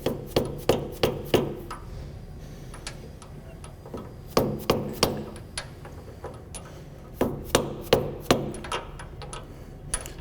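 Light hammer taps seat a seal into a motor housing around the shaft, coming in quick bursts of three to five close, sharp knocks separated by pauses of near quiet.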